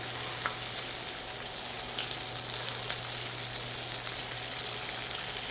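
Food sizzles steadily on the griddle of a Tundra Pro 16 camp stove, a dense, even crackle close by with a constant low burner hum beneath and no talking.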